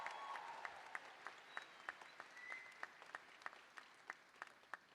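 Graduates at a college winter commencement ceremony clap in a large hall, a soft, distant wash of applause with scattered individual claps popping out sharply and steadily.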